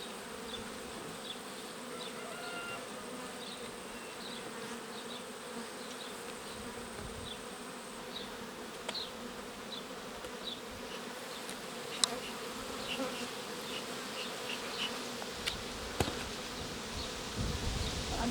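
Honeybees buzz continuously close by at an open hive during honey harvest, a dense steady hum from many insects with occasional louder passes and faint clicks.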